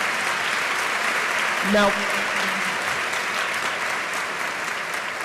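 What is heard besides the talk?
audience applause for lecture co-sponsors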